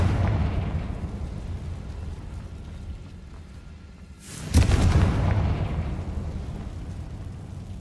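Deep rumbling game ambience gives way to a Confringo blasting spell exploding in Hogwarts Legacy, a single sudden burst followed by a rolling low boom that fades out slowly.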